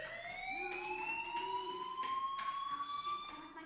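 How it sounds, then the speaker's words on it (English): Fire alarm in the video game Life is Strange wails with rising, sweeping siren-like tones that climb steadily in pitch, continuous and fairly loud, with no speech. "Hey, do you hear that fire alarm?"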